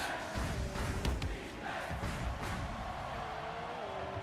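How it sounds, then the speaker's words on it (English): Esports crowd at a Rocket League match chanting in unison, a loud rhythmic mass of voices filling the arena and sitting under busy game sound and commentary. "like the crowd is saying, defense"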